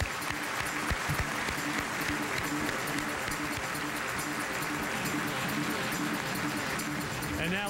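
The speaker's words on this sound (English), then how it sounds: "how about a nice round of applause for the best drivers in the Pro Stock Motorcycle" A large awards ceremony crowd applauds the 2006 NHRA POWERade Pro Stock Motorcycle drivers, a dense, steady roar of clapping that fills the whole stretch without letting up.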